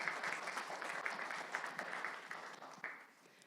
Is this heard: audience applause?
yes